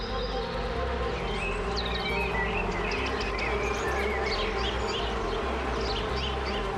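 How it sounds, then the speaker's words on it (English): Honeybees buzz in a dense, continuous drone close by, with higher chirping calls scattered over the steady hum. "honeybees have been domesticated and live in hives"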